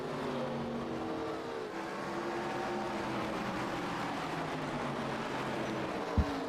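Race cars circling Bristol's short oval in iRacing, a steady continuous engine drone with layered whining tones shifting in pitch, several machines running close together, ending with a brief sharp thump.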